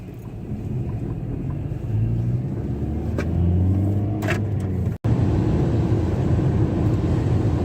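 A 2009 Dodge Caliber driving on the road, with a steady, loud engine and road rumble throughout and a brief dropout near the middle.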